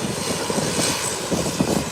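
An American Airlines airliner's engines roar down the runway on its takeoff roll, a loud, steady, broadband rumble and hiss heard from nearby without any talking.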